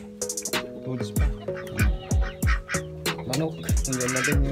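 Backyard chickens cluck and call in short, repeated bursts, several birds close by in an irregular rhythm, with a rooster-like tone here and there and no talking.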